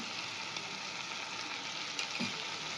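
Ginger garlic paste and turmeric sautéing in oil for a Kolkata street-style egg roll, a soft, steady sizzle close by with occasional faint stirring scrapes and a small clink near the end.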